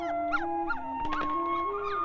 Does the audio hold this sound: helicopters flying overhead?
no